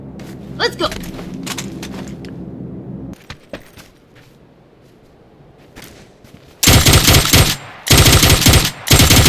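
Automatic rifle fire from PUBG: after a stretch with a voice and quieter game sounds, loud, rapid full-auto bursts rattle close up in two long strings near the end.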